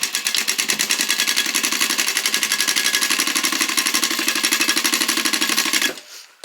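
A sewing machine stitches the corner of a beginner grocery tote bag, a loud steady rapid needle rhythm running for about six seconds before stopping abruptly.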